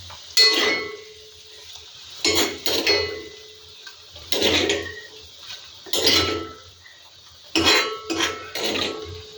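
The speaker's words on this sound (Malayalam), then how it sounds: "വറവ് ഇതിലോട്ട് കോരി ഒഴിക്കുന്നു" Fried mustard tempering for a Kerala paal kappa (tapioca in coconut milk) dish is ladled from the pan and poured in, giving several close bursts of metal clinks and scraping separated by quiet pauses.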